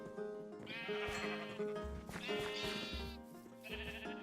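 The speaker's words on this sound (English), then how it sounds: "We do have plenty of sheep." Sheep in the video game Minecraft bleat three times in quick succession, each call a wavering nasal cry, close and clear over a faint background.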